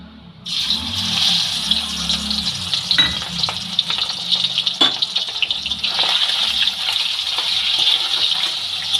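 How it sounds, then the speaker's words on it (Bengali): Prawns dropped into hot oil for a jackfruit curry, bursting into a loud, close, steady sizzle with sharp crackles and pops that carries on unbroken with no talking. "চিংড়ি মাছগুলোকে এই তেলেই আমি ভেজে নেব"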